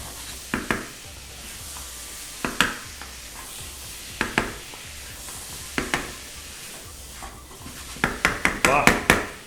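Boiled arbi (taro) is stir-fried with masala, a low sizzle punctuated by repeated sharp spatula knocks against the pan, clustering quickly toward the end.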